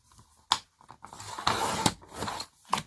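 Scissors snipping through paper for a collage, a few sharp separate cuts with brief quiet gaps between them, close and fairly soft.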